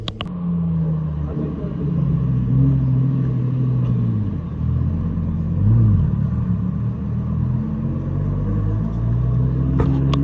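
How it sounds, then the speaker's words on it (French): Cars pass on a road in Monaco, heard as a low engine rumble from some distance that swells and fades twice as vehicles go by. "Là-bas il y a la route, on peut entendre des voitures passer."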